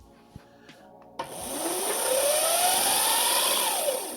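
The electric motor of a 5000-watt Razor MX650 e-bike spins up at speed 3 after a few faint clicks: a sudden loud whir with a rising whine that holds steady, then dips near the end, close and continuous.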